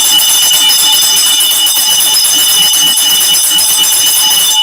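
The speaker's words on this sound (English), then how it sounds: "when the bell is ringing, it's fight time" A bell rings steadily and loudly to signal the start of a fight in an arena setting, a continuous bright metallic ringing sustained throughout, with crowd noise beneath.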